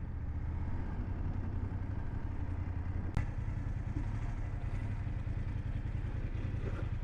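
A motorcycle idles at a historic garden site, its low engine rumble throbbing steadily and close throughout, with one brief sharp clack partway through and no voices.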